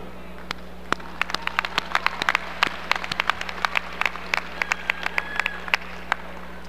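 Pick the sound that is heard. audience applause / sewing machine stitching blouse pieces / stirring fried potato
audience applause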